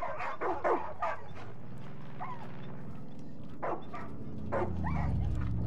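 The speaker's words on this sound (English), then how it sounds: "Noisy dogs." Several dogs in the Far Cry 5 video game whimper and yip in short, repeated high-pitched bursts over a steady game background, moderately close.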